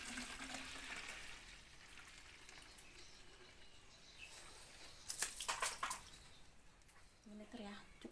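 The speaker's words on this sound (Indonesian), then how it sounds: "Ini kita isi airnya sebanyak 2 liter." About two liters of water poured into a container to mix a plant pest treatment, giving a steady rushing pour with brief louder splashes near the end, at close range.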